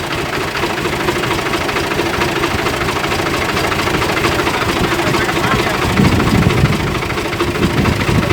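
A tractor engine idles steadily nearby in a sesame field, a constant low rumble and rattle that barely changes, with a slight surge near the end.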